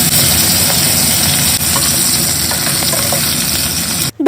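Fish frying in a pan gives a steady, loud, close sizzle that holds for about four seconds, then cuts off abruptly at the end.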